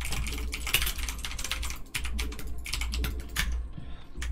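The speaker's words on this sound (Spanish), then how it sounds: "Ese es mi teclado." Rapid typing on a computer keyboard during a StarCraft match, close and clattering, with quick bursts of key presses and a brief pause in the middle.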